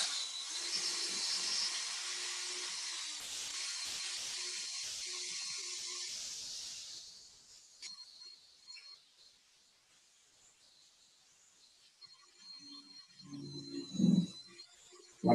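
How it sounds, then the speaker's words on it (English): A power drill mixing epoxy whines with a high, steady hiss for several seconds, then cuts out, leaving quieter clatter and faint scraping. "I'm going to use the drill because we have the pressure pot."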